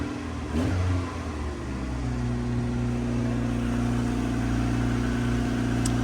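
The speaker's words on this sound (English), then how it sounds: "unfortunately, still revving quite high at idle" A Rover Streetwise's K-Series engine idles high and steady after a cold start, a loud, even mid-pitched drone with a short rev blip near the beginning.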